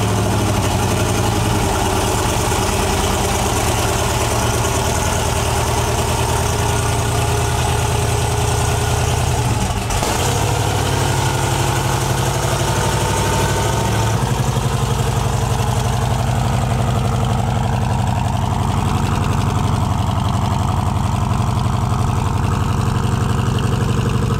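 An 1800hp twin-turbo 427ci LS engine running at its first start-up, a loud, steady, deep rumbling idle that holds throughout with slight shifts in tone and no talking.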